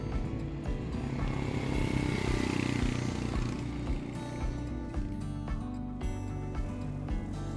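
A Royal Enfield Hunter 350's 350cc single-cylinder J-Series engine thumps and rumbles steadily nearby, with rattling mechanical clatter over the low throb.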